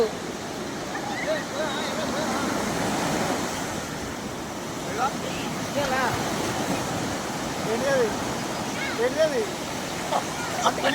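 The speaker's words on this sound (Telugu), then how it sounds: "ఇదే భీమిలి బీచ్ చూడండి ఇంత అలలు అలలు పోటు పోటుగా చెప్పుకుంటున్నాయి చూడండి" Ocean waves at Bheemili beach on the Andhra coast, a continuous loud wash of surf with wind buffeting the microphone and repeated swells of breaking water throughout.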